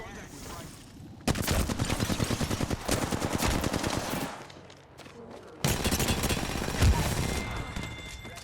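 Rifle gunfire in Apex Legends comes in loud, rapid automatic bursts with a short pause between them, then a second sustained burst, over a busy battle-royale soundscape.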